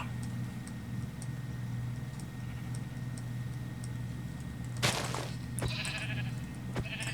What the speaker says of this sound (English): Ah, there's some sheep.